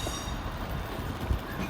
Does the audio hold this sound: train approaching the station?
yes